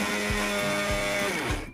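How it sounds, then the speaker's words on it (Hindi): Kitchen mixer grinder whirring as it grinds semolina, gram flour and wheat flour for dosa batter, a loud continuous motor drone with a rhythmic low pulsing, close and alone. "2 मिनट हमने मिक्सी में पीस लिया है"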